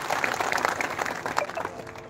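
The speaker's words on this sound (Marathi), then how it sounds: "त्यांच्यासाठी एकदा टाळ्या वाजवा." Crowd at a Dhangar community rally in Mhaswad clapping together, a dense burst of applause that holds steady and then tapers slightly, voices faintly mixed in.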